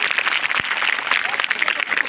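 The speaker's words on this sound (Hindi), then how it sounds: "आपके लिए जोरदार ताली होनी चाहिए।" Loud applause from a school audience at a Rajyoga meditation training event, a dense steady patter of many hands clapping throughout, with voices mixed in.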